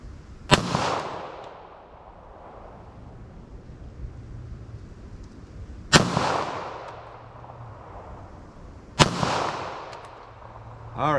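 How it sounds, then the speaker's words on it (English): Three sharp 9mm pistol shots, 147-grain rounds fired at a steel target 75 yards away outdoors, each a loud crack with a decaying echo, spaced several seconds apart with a low background hum between them. "I'm just gonna fire slow and just see how 9 millimeter versus 10 millimeter hits the steel"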